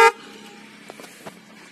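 A Yamaha FZS motorcycle horn gives a single very short honk, followed by near silence with faint background noise.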